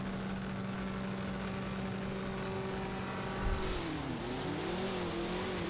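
A Mustang drag car in No Limit Drag Racing 2.0 holds a loud, steady engine drone, then its pitch dips and climbs again through a shift midway, with no talk over it.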